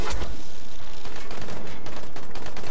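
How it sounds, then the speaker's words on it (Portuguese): Gunfire erupts in the zombie game Dying Light during co-op play, an opening heavy blast followed by a dense, continuous stream of rapid shots rattling close and loud throughout. "Oi, tiros."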